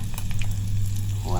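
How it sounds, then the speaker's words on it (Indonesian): Salted fish sizzles in hot oil at a camping cookout, a close, steady crackling fry with a low hum underneath throughout. "Ikan asin goreng ini digoreng sama dibakar ya"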